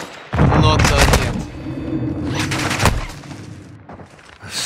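Gunfire crackles in Call of Duty Warzone on Ashika Island, loud repeated bursts of shots with booming thuds, alongside in-game radio voice lines.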